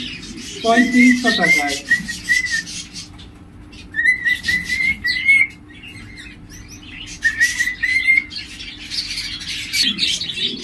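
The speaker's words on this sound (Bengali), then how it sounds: "চমৎকার এই লটিনো কোকাটেলটা আপনারা আমার কাছ থেকে নিতে পারবেন" A male lutino cockatiel in a bird shop gives loud, repeated whistled calls and harsh squawks in several bursts, with someone speaking briefly between the calls.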